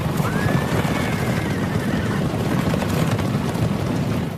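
A cavalry horse gives a long, clear whinny over a dense, loud wash of pounding hooves and battle rumble, the neigh rising early and fading while the galloping roar continues.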